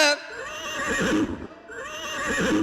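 A performer's voice imitates a horse neighing during a Maithili folk theatre performance, two loud whinny-like calls in succession, each starting high and trailing off, close and prominent.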